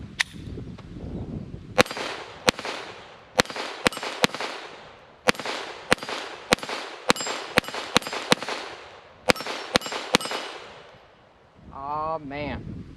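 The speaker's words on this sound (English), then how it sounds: "that was a full mag right there at the Taurus tx22" A Taurus TX22 pistol fires a full magazine of .22 rounds outdoors at about 15 yards, sending a long run of sharp, evenly spaced cracks over faint wind during a thunderstorm, with a voice at the end.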